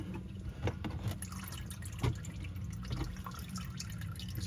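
Motor oil runs from the drain of a 2022 Honda Odyssey into a pan, a faint steady liquid trickle with scattered drips and small knocks close by.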